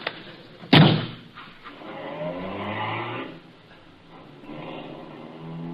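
A car door slams shut up close in a radio show sound effect, followed by an engine starting and the car pulling away with a steady rumble that rises and then eases.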